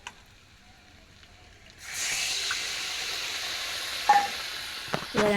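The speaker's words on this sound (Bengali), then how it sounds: "এবার এই মশলাটা আমি কড়াইয়ে দিয়ে দিলাম।" A spice paste of cumin, coriander and turmeric hits a hot kadai after a quiet moment, bursting into a steady loud hiss and sizzle with a few scraping stirs.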